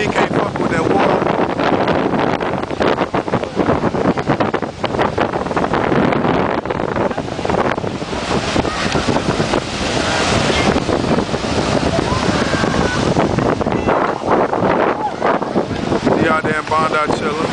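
Surf and gusting wind at Bondi Beach in Sydney make a loud, broadband wash of breaking waves and microphone buffeting, with bursts of nearby talk and voices mixed into the roar.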